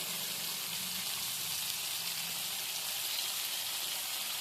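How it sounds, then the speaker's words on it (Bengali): Ginger, cumin and green chilli paste with turmeric powder frying in a pan, a steady, even sizzle that hisses on without break at moderate loudness. "এবার মশলাটা আমি ভালো করে কষিয়ে নিচ্ছি"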